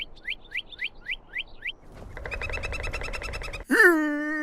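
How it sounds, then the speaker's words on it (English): Birds chirp in the Skyrim game world, a steady run of quick repeated tweets followed by a denser chorus of overlapping songs and a sharp louder call at the end, with no talk. "So at any given point in time, you can hear any random combination of birds chirping."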